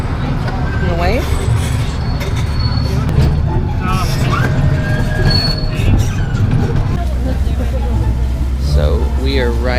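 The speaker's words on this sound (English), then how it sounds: "So we are riding the train at the zoo, and the train is derailed." Small zoo ride train running on its track during a zoo weekend, a close rumbling roll with squealing wheels and clanks, while people talk and call out over the noise.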